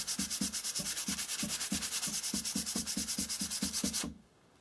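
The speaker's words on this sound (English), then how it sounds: "next thing's going to be hitting it a bit with the sandpaper" Sandpaper rubbed back and forth over a rusty axe head in fast, even strokes, a rhythmic rasping scrape close by that runs for about four seconds and then stops abruptly.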